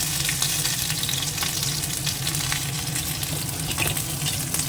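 Cauliflower and pointed gourd fry in a pan with a close, steady sizzle and crackle that carries on evenly throughout, with no voices.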